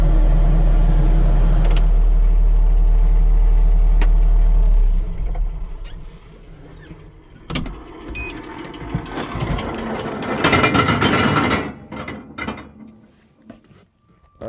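A cheap AGT flail mower with a universal mount runs with noticeable vibration: a loud low mechanical rumble that drops off after a few seconds, followed by clanks, rattles and scattered metallic knocks, one burst of harsh grinding.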